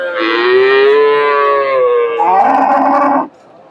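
A Friesian cow or heifer at a busy cattle market gives one long, loud moo that shifts pitch partway through and holds for about three seconds before stopping.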